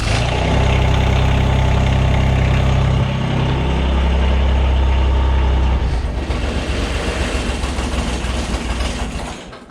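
The diesel engine of a Mahindra eMax 20S HST tractor runs loudly and close by with a steady, rumbling idle. Its tone shifts partway through and fades slightly at the end.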